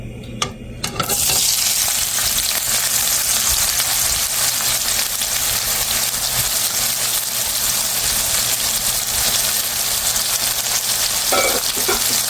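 Onion hitting hot oil in a wok (kadai) and frying, a loud, steady sizzle that swells abruptly after a quiet first second and holds with stirring scrapes throughout, for a fish curry with cauliflower.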